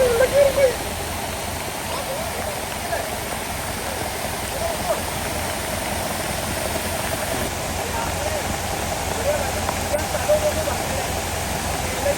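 Steady, dense rushing of Urumbi Waterfalls fills the scene, loud and continuous without pause.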